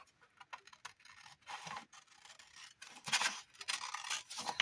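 Scissors cutting paper close up, a string of crisp snips and rustling scrapes in irregular rhythm, quiet and unaccompanied by talk.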